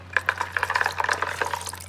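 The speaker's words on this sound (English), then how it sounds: "Now in goes syrup." Syrup poured into a jug of homemade cloudy lemonade already filled with ice, giving a close, soft trickling with light clinks of ice against the jug, steady over a low background hum.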